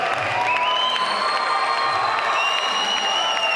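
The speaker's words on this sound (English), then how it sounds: "And the applause goes up for Danny Butler" A boxing crowd cheering and clapping as Bristol boxer Danny Butler makes his ring entrance. The noise is loud and sustained, with whoops and shouts over continuous applause.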